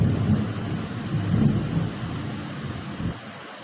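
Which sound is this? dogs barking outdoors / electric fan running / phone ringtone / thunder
thunder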